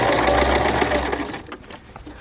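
A sewing machine stitches the seam of a beginner porch pillow in a steady, close, continuous whir, then slows and drops away near the end.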